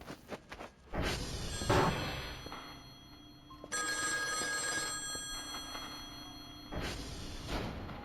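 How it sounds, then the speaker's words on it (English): A telephone rings in the video game Voices of the Void, a repeated electronic ringing in bursts separated by pauses, moderately loud and heard alone without talk. "I can't answer the phone."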